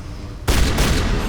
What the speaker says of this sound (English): That shotgun is so good.